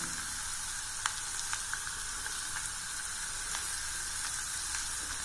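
Eggs sizzle in a pan for egg varuval, a soft, steady frying hiss with scattered faint pops and light ticks, heard alone without talk.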